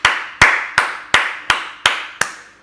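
Slow, even rhythmic clapping in a church congregation, seven loud, sharp claps in unison with a short ringing decay after each.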